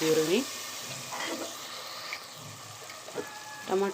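Tomato gravy hits a hot pan for meal maker rice, giving a steady sizzle and frying hiss throughout, with brief stirring scrapes and a light splash of liquid near the end.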